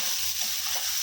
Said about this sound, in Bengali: আমি এখন দেখবো আমার সবজিটা ভাজা হয়েছে।